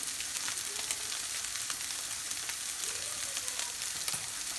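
Salmon sautéed in a pan gives off a soft, steady sizzle, fairly quiet and continuous, with a faint tap or clink near the end.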